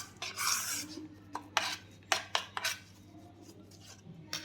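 Chickpea flour, peanut powder and sesame seeds are mixed by hand in a kitchen bowl, producing a string of close, short scraping and clinking strokes against the bowl, irregularly spaced with quiet gaps between them and no talking.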